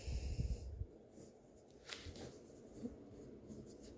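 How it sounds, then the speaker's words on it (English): A grey lead pencil scratches softly as it draws a line around a piece of fabric, faint dry strokes in short bursts with light breathing nearby. "pop a line around it, okay, just with any pencil you have. I'm using a grey lead today."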